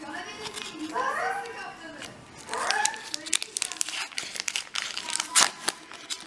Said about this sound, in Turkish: Bakalım açalım mı bir tanesini, ne var içinde?